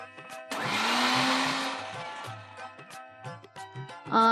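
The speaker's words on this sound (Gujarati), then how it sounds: "મોરૈયો હવે આપણે મિક્સરમાં પીસી લઈએ" A mixer grinder grinding moraiyo millet roars loudly for about two seconds, then whirs down, followed by a few clunks and short bursts as the jar settles.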